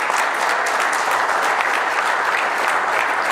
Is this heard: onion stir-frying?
no